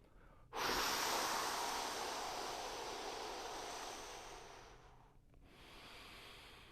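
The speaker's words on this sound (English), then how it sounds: "Let's let a couple good breaths out." Deep exhaled breaths during an exercise routine, one long, loud, close breath out lasting several seconds, then a short pause and a softer second breath beginning.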